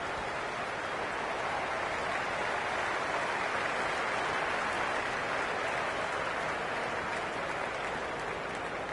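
A cricket stadium crowd in the Cricket 26 video game keeps up a dense, steady wash of applause and crowd noise. It stays at an even level throughout, with no clear peaks.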